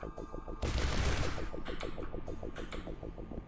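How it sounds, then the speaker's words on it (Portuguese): Rapid bursts of gunfire in the video game This Strange Realm of Mine, a rattling string of shots with a loud blast partway through, busy and close. "Foi 4 tiros, hein?"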